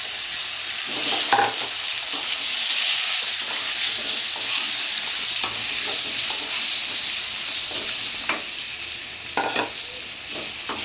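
Potatoes frying in oil with turmeric for a Bengali-style jackfruit curry, a loud, continuous hissing sizzle close by, with intermittent stirring scrapes and clinks of the spoon against the pan.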